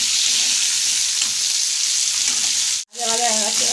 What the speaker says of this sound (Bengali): এবার আমি কেটে রাখা আলুটাও দিয়ে দেবো, একটু ভাজা ভাজা করে নিই।